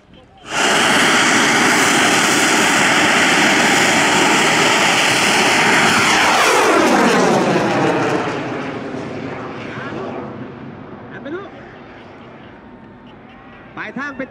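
A homemade bamboo rocket at the 2022 Bun Bang Fai rocket festival in Ban Nong Hang, Kuchinarai, Thailand, blasts off with a loud steady roaring rush for several seconds, then fades as it climbs away into the distance.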